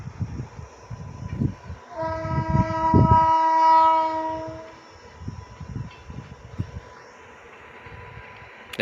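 A passing train blows a long, loud horn for nearly three seconds, then its rumble carries on and gradually fades, with no talking over it.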